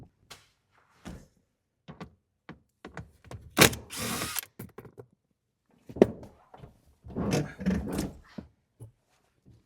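A driver or power tool whirs in short bursts while backing T30 Torx bolts out of a Jeep JK center console, with two main runs separated by clicks and handling noises in a quiet garage.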